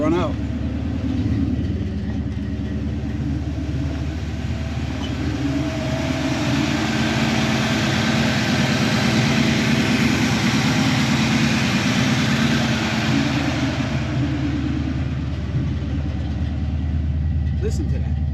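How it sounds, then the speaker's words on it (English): Camaro with Aces EFI and Flowmaster exhaust idling, a steady low rumbling drone held close and even throughout, with no other sounds. "I like the exhaust note on this car."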